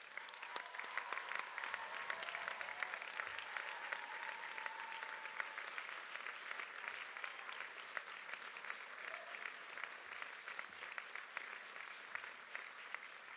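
A large audience at a university graduation ceremony applauds for family and friends, a dense, even clapping that carries on steadily for over ten seconds without pause.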